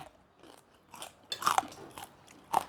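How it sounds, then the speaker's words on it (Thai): Crispy pork rinds are bitten and crunched up close, with several sharp crackling bites and chewing and a loud crunch near the middle and end. "แคบหมูกรอบๆแซ่บค่ะพี่น้อง กรอบกรอบด้วยค่ะพี่น้องเนี่ย"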